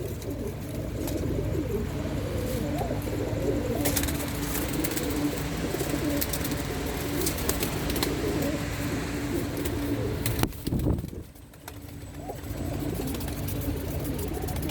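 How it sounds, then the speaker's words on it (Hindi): Domestic pigeons, including white Sialkoti and Zeera birds, coo repeatedly on a rooftop over a low engine hum, with a short lull near the end before the cooing resumes. "कबूतर सारे सीज़न के पकड़े हुए कबूतर हैं और अच्छे कबूतर हैं।"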